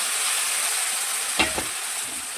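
A ginger, garlic, onion and tomato paste sizzles with katla fish pieces and potatoes in a pan, a steady hissing fry broken by a quick stirring scrape midway.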